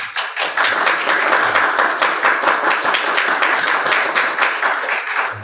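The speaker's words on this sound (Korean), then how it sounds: "우리 격려의 박수 한번 보내주십시오." Church congregation applauding together, a loud, dense run of hand claps close by, steady and sustained from start to finish.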